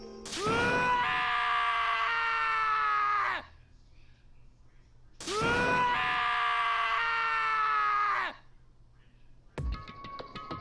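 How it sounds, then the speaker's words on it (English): A character in the Danganronpa: Trigger Happy Havoc video game lets out two long anguished screams, loud and close, each lasting about three seconds with a pause between, followed by a brief sharp sound effect. "Tanaka's sad scream fouled our skulls."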